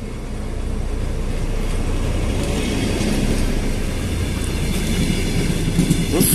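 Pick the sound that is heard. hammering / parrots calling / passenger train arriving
passenger train arriving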